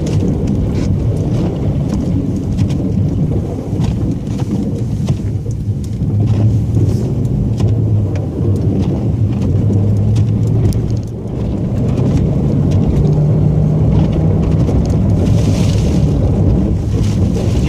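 A vehicle drives by during a snow storm, its low rumbling engine mixed into steady, loud wind noise and roar that carry on throughout.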